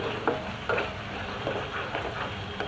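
Ground garam masala of cinnamon, green and black cardamom frying in oil in a pan, with a steady soft sizzle and a few scraping stirs of a spoon, close and alone.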